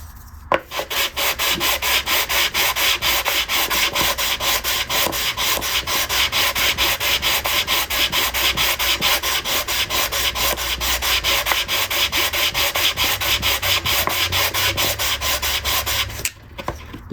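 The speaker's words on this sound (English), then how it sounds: "This is just a little sanding block I made of a offcut of poplar" Steady, rapid back-and-forth rasping of a poplar sanding block on wood veneer, loud and close, continuing without pause for the whole stretch.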